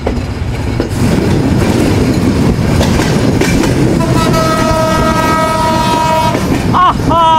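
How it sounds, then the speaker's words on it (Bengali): Kapotaksha Express broad gauge train horn on the Khulna to Jessore run: a loud, sustained harmonic blast sounds over the rumble and clatter of the moving train, ending in a couple of shorter toots. "এই হর্নের সাউন্ড শুনতে যে এত ভালো লাগে কেমনে বুঝাবো।"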